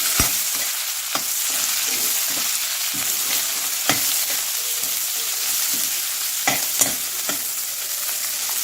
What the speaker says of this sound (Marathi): मिरची आपण मस्त फ्राय करून घेऊ